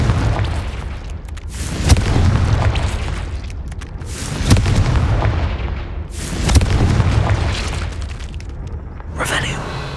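Spell explosions from the Confringo fire curse in Hogwarts Legacy, heard as a series of heavy booming blasts roughly every two seconds, loud and close, with game sounds between them.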